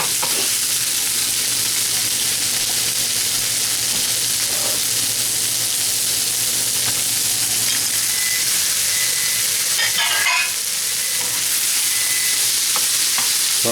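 Lobster tails sizzle and crackle steadily in a hot pan, a constant bright hiss with occasional pops and stirring.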